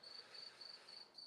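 Crickets chirping faintly in the background, a steady high-pitched trill pulsing in short regular bursts under quiet room noise.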